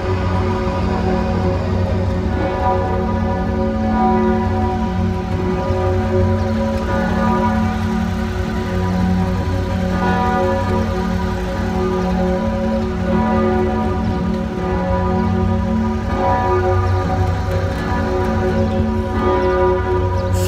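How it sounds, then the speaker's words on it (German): Church bells in Frankfurt, heard from a boat on the river, ring continuously in a dense, loud wash of overlapping tones that sustains steadily throughout. "alle ihre Glocken hätten sie wegen mir jetzt nicht unbedingt läuten müssen"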